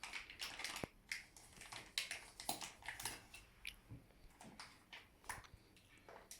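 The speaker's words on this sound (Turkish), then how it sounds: "şu an makasla açılışını yaptım arkadaşlar" Scissors snip and crinkle open a foil package of Jibiar Dragon Berry hookah tobacco, giving a series of close, irregular crisp cuts and rustles with no talking.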